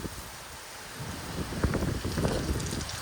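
Rain and wind sweep through Rajkot in a steady, noisy wash, faint and fairly distant, with gusts swelling in the second half.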